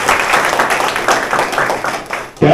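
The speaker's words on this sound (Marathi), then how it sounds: "सर्वांनी त्यांच्यासाठी एकदा टाळ्या वाजवायच्या" A crowd claps in dense, even applause at a Marathi devotional gathering honouring a kirtan speaker on a Shravan Monday, loud and close, ending abruptly.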